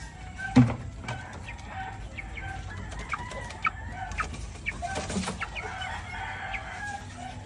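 Chickens clucking and a rooster crowing at a backyard chicken farm, several birds calling close by in irregular bursts over steady ambient noise.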